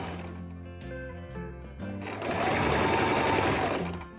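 A sewing machine hems fabric with a double needle, its close, steady mechanical whirr running in short starts, then settling into one longer, louder continuous run.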